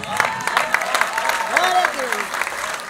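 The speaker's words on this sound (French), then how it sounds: "Et acclame très fort le Seigneur." A church congregation applauds and cheers the Lord, with dense clapping and raised voices calling out over it, close and lively throughout.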